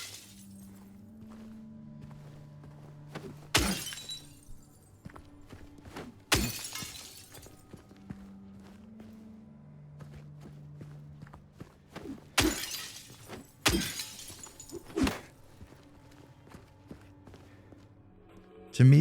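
Glass shattering in Silent Hill 2 Remake, several sharp smashes at intervals with crunchy footsteps in between, over a low droning game ambience.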